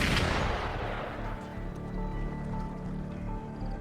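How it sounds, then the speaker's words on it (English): Video game gunfire opens with a sharp, loud burst that decays into a rumbling wash of reverberating shots and low background noise. "Gunfire! We've got intruders."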